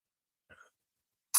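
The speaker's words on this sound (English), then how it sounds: "Sorry, yeah, I coughed." A single short cough bursts out near the end, loud and close, after a brief faint sound a moment earlier, during a live talk broadcast.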